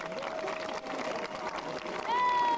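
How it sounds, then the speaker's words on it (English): Crowd applause at a Lag B'omer parade, a dense, steady patter of clapping that carries on throughout, with a brief rising whistle-like tone near the end. "Give them a round of applause,"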